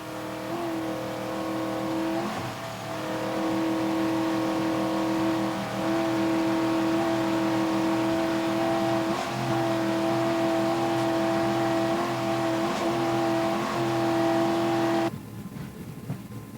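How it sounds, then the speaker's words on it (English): Onboard a 24-foot Rheinland racing powerboat during a championship offshore race at Key West, the engine drones loud and steady at high revs with strong tonal harmonics for about fifteen seconds, then cuts to rushing wind and water. "A 24-foot Rheinland powerboat."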